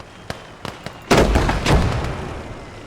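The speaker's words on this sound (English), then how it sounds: "Mortars are doing a beautiful job there." Mortar rounds landing in the winter war game Blood Red Snow: a few sharp distant pops, then two heavy booming blasts with rumbling tails, loud and without speech.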